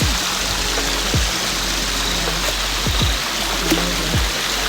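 Water runs steadily from an outdoor washing spot at Obudu Mountain Resort, a constant broadband rush like a small stream, with a few low thumps breaking through the flow.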